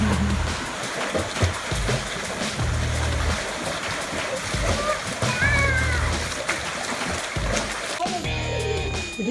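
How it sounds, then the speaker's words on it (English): Small children splashing while swimming at night, with steady nearby water splashing and sloshing throughout and a voice briefly heard near the end. "The three little ones are having a late night swim."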